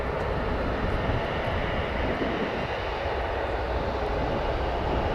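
A United Express Embraer 175 airliner taxiing at O'Hare Airport gives off a steady, broad jet-engine rumble and whine, constant and moderately distant, with no talking.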